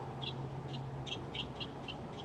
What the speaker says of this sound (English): That bird sounds like the Karen of birds.